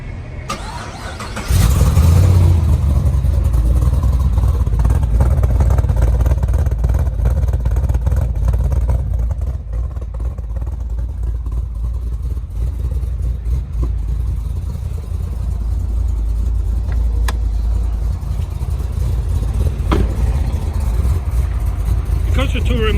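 A Camaro SS engine is remote started and cranks to life with a loud burst, then settles into a steady, close, rumbling idle that continues throughout.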